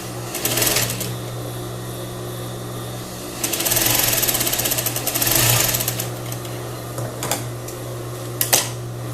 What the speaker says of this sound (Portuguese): Costurei aqui o revel da blusa.